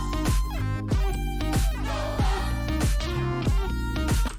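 A high-passed synth layer with a Gross Beat effect adds gated, choppy texture inside a full electronic mix, with rhythmic stutters riding over steady kick-driven pulses and sidechain-ducked chords, loud and dense throughout.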